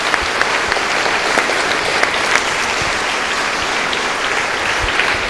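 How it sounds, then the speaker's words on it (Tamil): An audience claps together at a motivational talk on raising children to succeed, a dense and steady wash of applause that stays even for the whole stretch. "கைத்தட்டல் மூலமாக சொல்லுங்கள்."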